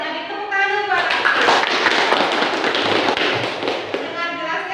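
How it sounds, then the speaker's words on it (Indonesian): A classroom breaks into applause for a student, a dense burst of many hands clapping at once that lingers fairly loud, with voices audible at the start and end. "Tepuk tangan dulu buat Apip."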